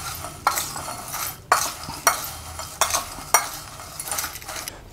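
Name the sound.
stirring tofu ball batter with seasoning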